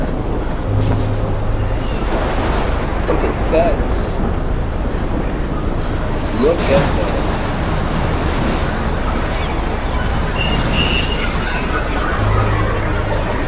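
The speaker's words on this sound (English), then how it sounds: "That's like a whole hurricane." Howling wind and crashing surf of a violent storm in the video game Life Is Strange, a dense, continuous roar that stays loud throughout, with a voice briefly speaking over it.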